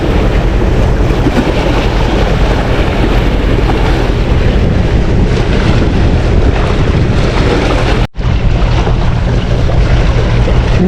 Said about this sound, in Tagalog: Lumakas ng alon.